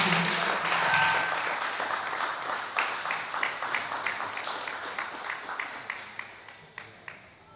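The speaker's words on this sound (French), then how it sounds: "sous nos acclamations" A congregation at a church service applauds to welcome a speaker, a dense wash of clapping that thins out into scattered, fading individual claps toward the end.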